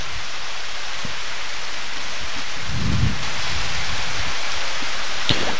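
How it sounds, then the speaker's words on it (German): Steady, loud rain falling in the farming video game Harvest Moon: Back to Nature, a continuous hiss with a low rumble swelling midway and no speech. "Und ihr hört es, es regnet."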